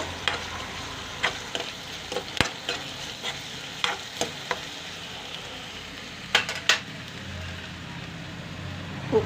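Ginger garlic paste frying in a pan for a raw-mango curry, a soft steady sizzle broken by scattered clicks and scrapes of stirring, with no talk.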